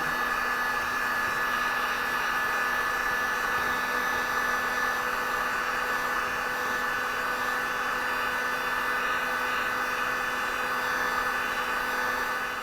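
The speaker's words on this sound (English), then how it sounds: "take a heat gun and just heat it up a little bit just so we can loosen up that glue" A heat gun blows steadily and loudly without a break, warming the adhesive behind an emblem on a 2011-2015 Chevrolet Cruze.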